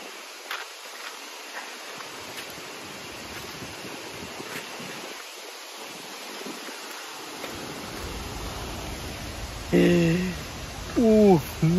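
A steady rush of water comes from the Pulhapanzak waterfall and river in Honduras, a continuous broad roar heard at some distance, with footsteps and someone talking briefly near the end.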